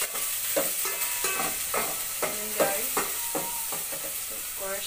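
Garlic, onion and tomato sauté in a pan with a steady close sizzle, broken by repeated scraping stirs of a utensil at an uneven rhythm, with no voices.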